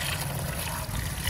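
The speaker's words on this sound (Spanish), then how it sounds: "voy a tirar primero el agua caliente" Hot water pours steadily out of a container into a bucket, a continuous close splashing trickle that runs without a break.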